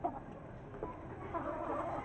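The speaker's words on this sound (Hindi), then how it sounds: "जो कि बहुत बोलता है, ये वाइट मुर्गा" A white rooster clucks in soft, continuous murmurs among a small flock of chickens. A faint rustle of birds moving about sits underneath.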